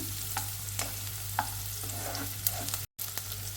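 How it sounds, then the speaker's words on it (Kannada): Onions frying in a pan until lightly browned, a soft steady sizzle with a low hum beneath and occasional scraping stir clicks, close and without speech. "ಈಗ ನಾನು ಈರುಳ್ಳಿ ಆ್ಯಡ್ ಮಾಡಿದೆ ಸೊ ಇದು ಲೈಟಾಗಿ ಬ್ರೌನಿಷ್ ಬರೋವರೆಗೂ ಸ್ವಲ್ಪ ನಾವು ಫ್ರೈ ಮಾಡ್ಕೊಳ್ಳೋಣ"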